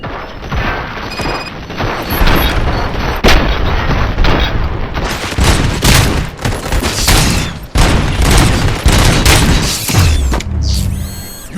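Sustained gunfire in RoboCop: Rogue City, dense loud bursts and volleys with crashes and mechanical clanks, continuing almost without pause before tapering off at the end.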